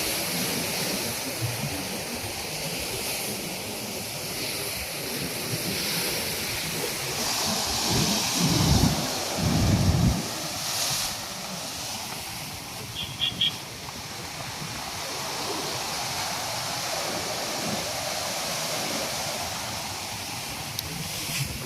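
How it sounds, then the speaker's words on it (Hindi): Sea waves roll onto the beach at Porbandar, Gujarat, heard as a steady, broad wash of surf with a few heavier breaking swells mid-way, continuous and fairly close. "कभी कभी बड़ी लहर उठती है, कभी छोटी उठती है।"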